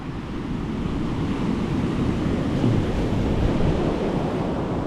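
Sea waves surging onto the shore in a steady, loud roar of surf, with wind rumbling across the microphone throughout and no voices.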